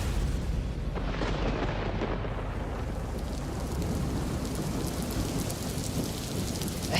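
Steady, heavy rain falls in a constantly wet wilderness, a dense, unbroken hiss close around the listener with no voices.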